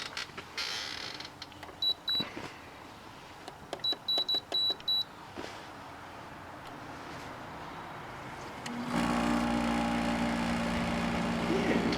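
An older LG 10000 BTU window air conditioner switches on partway through, its steady broadband hum and low drone swelling up and running continuously after earlier scattered clicks, creaks and faint beeps.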